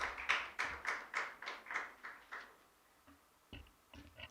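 Light hand clapping from a small audience during a youth webinar, about ten evenly spaced claps that fade away, then a pause and a few faint scattered claps near the end.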